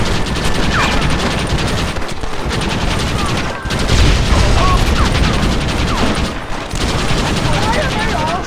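Sustained gunfire from several shooters in the Red Dead Redemption video game: dense overlapping shots and crackling volleys fill the scene without letup, with voices shouting over the battle.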